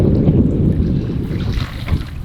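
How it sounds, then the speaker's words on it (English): Strong wind gusts across a lake during a canoe trip, a loud steady roar buffeting the microphone with rushing water and waves underneath, alone with no talk. "This is how bad the wind is."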